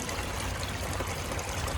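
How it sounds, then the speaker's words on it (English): Water pours and trickles steadily into an OASE BioTec ScreenMatic pond filter as its level rises, a close, even splashing wash with no breaks and no voices. "So the filter water level is rising"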